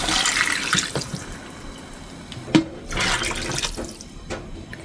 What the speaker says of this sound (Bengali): এবার দিয়ে দিচ্ছি পানি